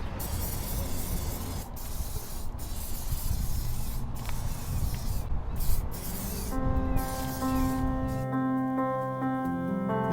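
Silicone lubricant sprayed onto a truck's leaf springs: close, loud hissing bursts separated by short breaks, with a steady tonal hum joining in over the last few seconds.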